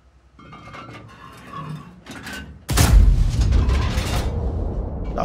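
A heavy ISU-152 tank cannon blast in a video game booms suddenly after quieter mechanical rumbling and faint voices, then a loud sustained roar and rumble follows.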